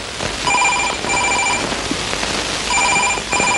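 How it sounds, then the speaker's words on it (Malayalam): A telephone rings unanswered in a comedy film scene, two bursts of repeated electronic ringing separated by a pause, loud and close, with no talk. "എന്താ ഫോൺ ആരും എടുക്കുന്നില്ല."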